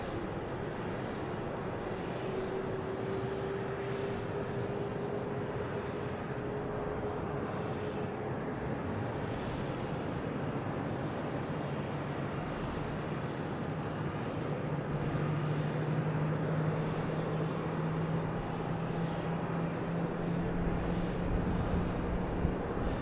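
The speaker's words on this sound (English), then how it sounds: "Airbus A220." Airbus A220 airliner at Logan airport at dusk, a continuous distant engine drone with a slowly shifting tone, swelling slightly toward the end.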